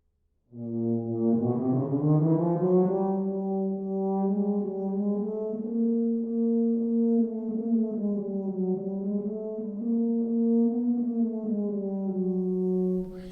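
A solo tuba sustains soft, smooth notes in its upper range, rising slowly then holding a gently wavering long tone, close and clear.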